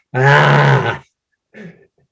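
A voice imitates a lion's roar during laughter yoga, giving one loud, strained, growling cry up close, then a shorter, fainter second burst after a pause.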